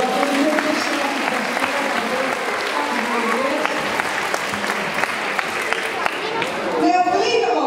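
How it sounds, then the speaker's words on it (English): Spectators clap steadily for a sea lion at an animal display, a lively round of applause with some crowd chatter mixed in. "do give Bicko a little bit round of applause"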